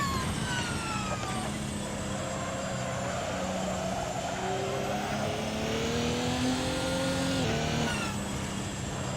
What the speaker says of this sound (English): You feel like you're almost curling this car around the corner.